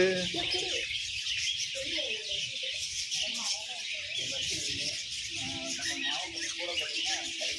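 Birds at a bird park in Thanjavur keep up a busy, continuous chorus of chirps and squeals, with a person talking over them throughout.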